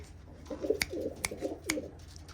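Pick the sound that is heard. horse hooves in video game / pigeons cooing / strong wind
pigeons cooing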